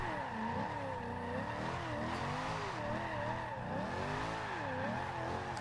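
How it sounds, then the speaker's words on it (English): Chevrolet SS being spun in continuous donuts in the Forza Horizon 2 racing game, its engine droning steadily with wavering revs and sustained tire squeal throughout, loud and close with no talking. "Oh, I can just go around and do donuts like these for days"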